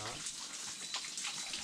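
Spring water flows from a mountain rock in El Salvador, a soft, close trickle and splash running steadily through a brief moment.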